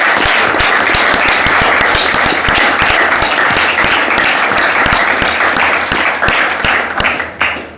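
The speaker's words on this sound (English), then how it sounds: "we give a round of applause to our coaches, our parents, our volunteers for all that they've done" An audience at a village board meeting claps steadily and loudly for several seconds, dense applause that thins out toward the end, with no talking over it.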